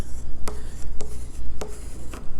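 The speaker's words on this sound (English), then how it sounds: "burnish this down with my bone folder" A bone folder burnishes tape down on a paper gift card holder, making four or five sharp rubbing swipes at an irregular pace over a steady low background hum, close and fairly loud, with no talk.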